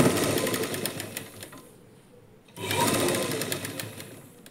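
Sewing machine running steadily while stitching the lining of a blouse, a close, continuous mechanical whir that eases off briefly in the middle and then picks up again.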